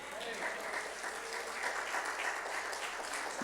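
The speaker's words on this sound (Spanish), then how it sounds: "Dele fuerte esa ofrenda de palmas" A church congregation applauds together in a steady, dense wash of clapping that fills the room, with voices mixed in underneath.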